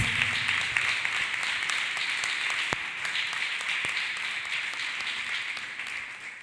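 A church congregation claps for Jesus Christ after a prayer session: dense, sustained crowd clapping, even and moderately loud, with a few sharper claps standing out and a faint low voice at the start.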